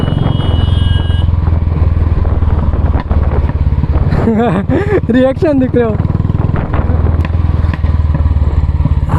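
A 2019 Royal Enfield Classic 350 with its 346 cc single-cylinder engine thumps loudly and close at idle, its exhaust pulsing in an even rapid beat while someone briefly speaks over it midway.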